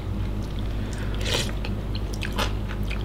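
Soup broth with cucumber slices is slurped in two short, close bursts over a steady low background hum, with no speech.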